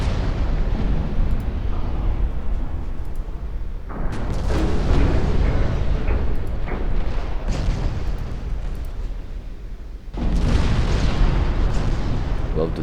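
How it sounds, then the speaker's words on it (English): Torpedoes exploding in a naval battle in Ultimate Admiral: Dreadnoughts, heard as rumbling blasts and bursts layered over a constant low battle din, with a fresh loud surge near the end. "Torpedoes blowing up."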